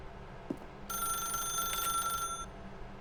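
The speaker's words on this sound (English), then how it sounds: "Now pick up the phone." Telephone ringing in The Stanley Parable video game, a bright metallic bell trill lasting about a second and a half, fairly close and clear, after a faint click.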